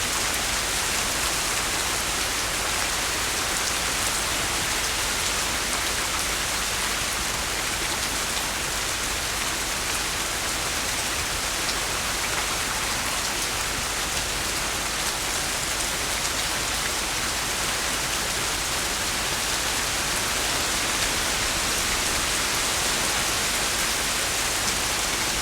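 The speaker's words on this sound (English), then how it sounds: "Hopefully y'all can hear the rain" Heavy outdoor rain with wind makes a dense, constant roaring hiss that stays loud and unbroken throughout, with no voices.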